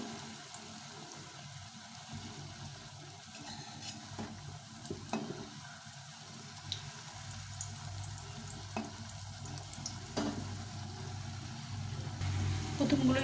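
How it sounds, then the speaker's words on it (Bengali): Raw banana kofta balls deep frying in hot oil give a steady, soft sizzle with occasional sharper pops and crackles throughout, close and moderately quiet, slightly louder toward the end. "এভাবে করে ভেজে নেব সবগুলো এটা খুব ডিপ ফ্রাই করতে হবে"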